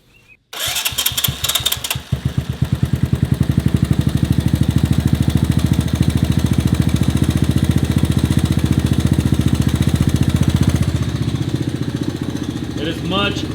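A 1984 Honda ATC three-wheeler engine fires up after a short cranking burst, then settles into a loud, steady, close-up idle with an even thumping rhythm that runs unbroken to the end.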